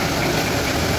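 A vehicle engine idles close by with its exhaust rumbling, a steady, dense low-pitched drone filling the whole second without a break.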